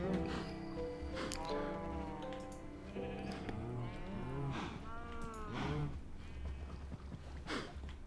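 Cow mooing in a sci-fi farming video game, several drawn-out moos and bleat-like calls overlapping across the stretch, fairly quiet and close, with no talk over them.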